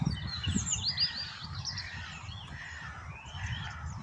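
Crows cawing at a distance in Parc Monceau, Paris, faint scattered calls over a low rumbling outdoor background.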